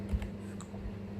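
A few quiet keystrokes on a computer keyboard while entering a command, soft scattered clicks over a faint background hum.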